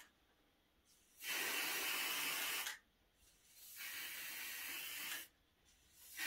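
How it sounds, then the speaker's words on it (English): Aerosol spray misted over an artificial monochromatic flower arrangement, heard as two close, steady hissing bursts of about a second and a half and two and a half seconds, separated by a brief quiet gap. "Try not to spray too close, because then you'll get bits running down"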